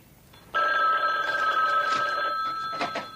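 An old-style telephone bell rings loudly and continuously for about two and a half seconds in a 1978 television drama scene, then gives a brief second burst, with no talking.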